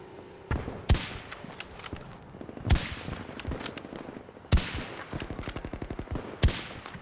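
Gunfire in Battlefield 2042, several loud sharp shots landing at irregular intervals, each followed by rapid rattling bursts of automatic fire, close and punchy against quiet background.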